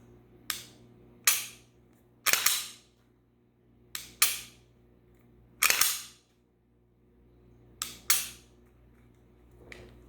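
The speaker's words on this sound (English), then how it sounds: "checking the reset in the trigger" A pistol trigger is pressed and clicked through its reset, giving a series of sharp, close metallic clicks, often paired, spread across the span with quiet gaps and no speech.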